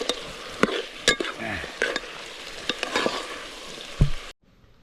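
Spicy goat innards and chillies being stirred in a hot pot, a spoon scraping and knocking against the metal over a constant sizzle, with short clinks before the sound cuts off.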